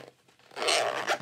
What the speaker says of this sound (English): Husky zippers are really nice.